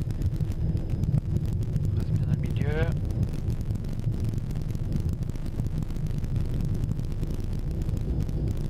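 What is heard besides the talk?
crosswind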